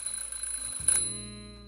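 A smoke detector alarm in the adventure game The Journey Down gives a short electronic tone that jumps to a new pitch and then holds. It sounds close and clear, with no speech.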